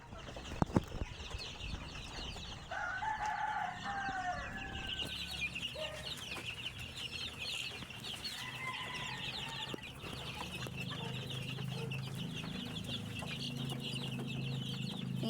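Chicks and chickens in a backyard coop give repeated soft chirps and clucks over a constant hum of background noise, with no talk.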